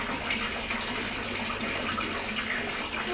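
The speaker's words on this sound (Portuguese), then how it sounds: "E joguei água aqui na garagem também." Water is splashed and hosed across a garage floor and low walls, a loud, continuous rushing gush close by with no talking.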